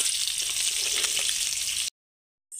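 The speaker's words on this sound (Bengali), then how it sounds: "তো মাছের এক সাইডটা ফ্রাই হয়ে গেছে, আর এক সাইডটাও ফ্রাই করে নেব পাল্টিয়ে।" Tilapia fillets fry in a hot pan, giving a steady close crackling sizzle that cuts out for about half a second before resuming.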